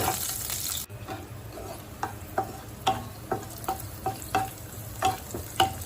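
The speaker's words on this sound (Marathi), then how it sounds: "लसूण व मिरच्या ह्या तेलामध्ये चांगल्या परतून घ्यायच्या आहेत" Garlic and green chilies frying in oil for an aloo palak dish give a low crackling sizzle, then a spoon stirs them in a string of light clinks and scrapes, close and fairly quiet.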